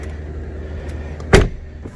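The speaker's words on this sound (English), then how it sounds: "You literally got to shut the door" A Tesla Model S, 3 or X car door is shut with a single solid thump. It is close and loud against a quiet interior hum, with no talking.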